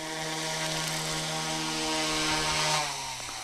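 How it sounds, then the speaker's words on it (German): A YuXiang F07 Bell UH-1D beginner RC helicopter descends to land, its small electric motor and rotor giving a close, steady buzzing whine that holds level, then drops in pitch and fades slightly near the end. "und schon geht der Hubschrauber runter."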